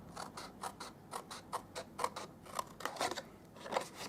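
Scissors snipping off a strip of cardstock scrap, a quiet run of about a dozen short crisp cuts in a steady rhythm, close by with no talking.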